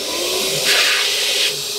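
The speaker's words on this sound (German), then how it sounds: "Jetzt kommt der Groomer-Föhn zum Einsatz, ist ein Monstrum. Der macht richtig Krach." A dog groomer's high-velocity blow dryer roars as a steady loud hiss and rush of air, swelling briefly in the middle of the short burst, with no talk.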